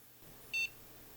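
A single short electronic beep rings out from a device under repair during a current-draw test, clear and close against a quiet background hum, with no one talking.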